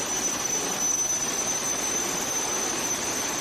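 A jet-powered drag racing truck at a night race roars with a loud, steady turbine rush and a thin high whine, continuous and close, with no distinct separate booms standing out.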